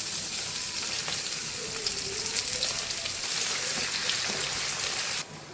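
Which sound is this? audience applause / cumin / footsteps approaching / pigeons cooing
cumin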